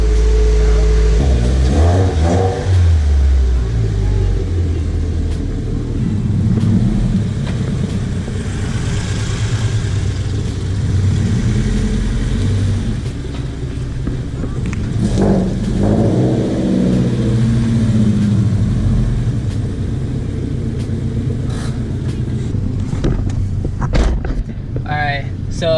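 Modified Scion FR-S sports cars, one turbocharged with loud exhaust and running E85, rev and accelerate on back roads, engines rising and falling loudly and close, with people talking over them.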